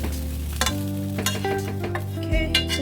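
Rice stir-fried in a pan for fried rice, a steady close sizzle with scraping and stirring strokes throughout, no voices.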